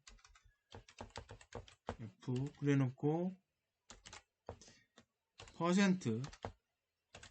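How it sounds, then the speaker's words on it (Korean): Keyboard typing clicks out in short bursts, with a person talking briefly between the keystrokes. "그냥 타이핑을 칠게요."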